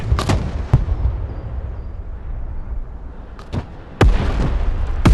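Artillery fire in the video game Broken Arrow: several loud, booming shots in an irregular sequence, with two close together near the start, a long rumbling tail between them, and a heavier pair of blasts toward the end.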